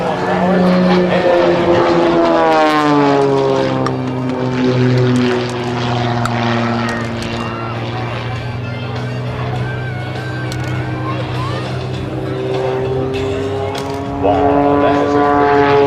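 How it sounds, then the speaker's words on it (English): An aerobatic propeller airplane performs at an air show at Atlanta's Peachtree DeKalb Airport, its engine droning loudly with sweeping pitch changes as it climbs and turns nearby, while an announcer talks over it. "They're getting an aircraft at 150 miles an hour."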